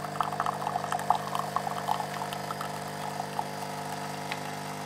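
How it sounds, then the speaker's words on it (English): A Bosch Tassimo coffee machine froths milk with a steady mechanical hum and pump drone, with light gurgling and bubbling on top, moderately quiet and close. "So now it's making the frothy milk part."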